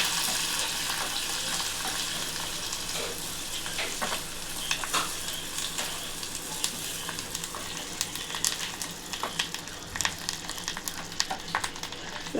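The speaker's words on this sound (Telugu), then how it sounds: "పోపు మంచిగా వేగాలి" A tempering of garlic, dried red chillies, curry leaves and a pinch of turmeric fries in hot oil, crackling and sizzling steadily up close, with sporadic sharp pops and stirring scrapes and no one speaking.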